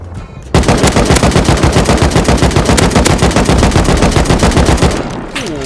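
Rapid automatic gunfire from an AK rifle in the survival video game Rust, a loud, close, sustained burst of evenly spaced shots lasting several seconds before stopping abruptly.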